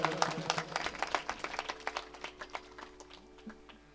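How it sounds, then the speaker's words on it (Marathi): Applause at a village felicitation ceremony: a brief burst of hand claps that thins out to scattered, slowing claps fading over a few seconds. "जोरदार टाळ्या वाजवा."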